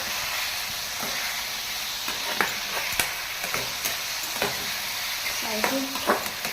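Masala with turmeric powder and salt sizzles and fries in a pan while being stirred, a close, steady crackling hiss broken by occasional scraping clicks of the spoon against the pan.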